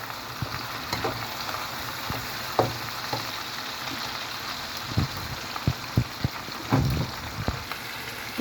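Tomatoes sizzle in a pan with pork, a steady close hiss of frying broken by soft clinks and scrapes of stirring.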